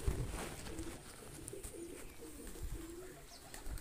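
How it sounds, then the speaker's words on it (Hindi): Pigeon cooing from a well-groomed breeder pigeon in a loft, soft low repeated coos with faint rustling, fairly close and continuous with no talk. "बहुत प्यारा कबूतर है"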